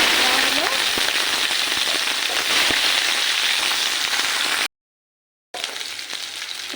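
Onions fry in hot oil with cumin seeds, dried chilli and bay leaf, giving a close, steady hiss and crackle that stops briefly near the end and then resumes.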